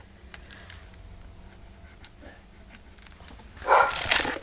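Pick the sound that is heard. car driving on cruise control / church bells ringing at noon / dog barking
dog barking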